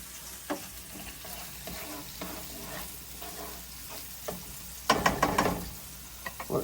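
Onions and vegetables cook down in a pan for vegetarian spaghetti, giving a steady low sizzle with scattered stirring scrapes and a louder burst of clatter near the end.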